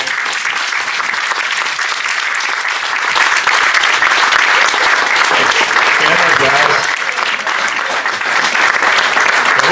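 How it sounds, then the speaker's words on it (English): Sustained applause from a seated crowd at Cooper Lake State Park honoring the park rangers, dense steady clapping throughout with a slight swell midway, some voices mixed in. "can we give those guys and ladies a big hand?"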